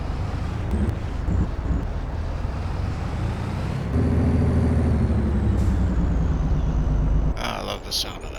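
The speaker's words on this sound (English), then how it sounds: "I love the sound of that truck." A heavy truck with air brakes in Farming Simulator 22 rumbles steadily at close range, its low engine drone growing louder midway before a sharp air-brake hiss near the end, with talk over it.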